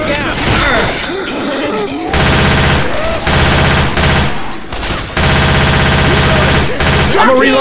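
Bursts of rapid automatic gunfire and shotgun blasts from Left 4 Dead 2 on the Hard Rain campaign, loud and dense in long stretches separated by short gaps, with players shouting over the shooting.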